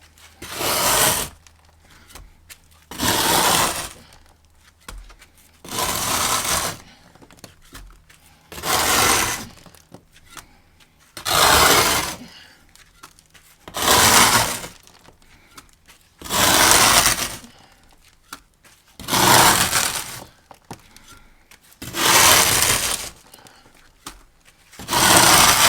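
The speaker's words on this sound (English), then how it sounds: "Yes, it scrapes off." Trowel scraping clay plaster off a wall in about ten rhythmic rough strokes, each a loud gritty scrape lasting about a second, separated by short quiet gaps, close to the microphone.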